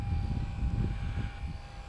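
A HobbyZone Super Cub S radio-controlled airplane flies at steady throttle, giving a continuous low engine drone with a thin steady whine above it, fairly distant and even in level throughout with no speech.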